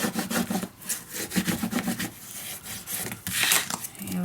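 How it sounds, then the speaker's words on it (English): Firm repeated rubbing of a tool burnishing down the back of a decorative paper page in a handmade junk journal, a dry scratchy friction in short close strokes with brief pauses and no talking. "Maybe it's better to burnish it down on the back."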